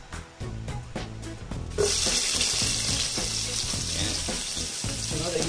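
Garlic drops into hot leftover frying oil: a few sharp clatters and scrapes come first, then a sudden bright hiss that settles into a steady, loud sizzle to the end.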